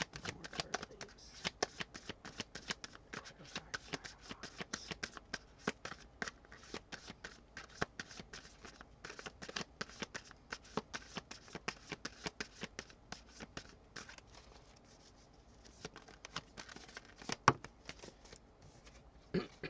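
Tarot cards being shuffled continuously, a dense rapid riffling and flicking close by that runs almost without pause and eases briefly near the end.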